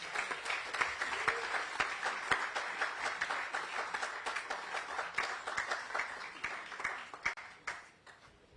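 Scattered applause from a press conference audience greets reigning Ironman World Champion Sam Laidlow of France in Kona. The claps are distinct and fairly faint at first, then thin out toward the end.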